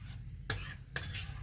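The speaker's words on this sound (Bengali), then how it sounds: "আর এটা বারবার নাড়তে হবে কারণ এতে চাল মগজ আছে কাজু আছে" Two short scraping strokes of a spoon stirring a vegetarian carrot dish with rice, magaj seeds and cashews in a pan, each stroke a brief near scrape over a low, quiet background hum.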